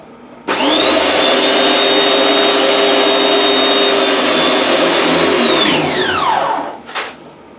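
A machine switches on abruptly and builds pressure with a loud, steady, high whining drone, then spins down with a falling pitch and fades near the end.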